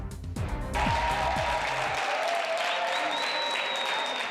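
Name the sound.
applause celebrating approval at a constitutional convention plenary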